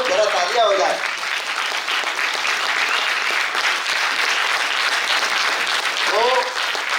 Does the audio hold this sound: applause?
yes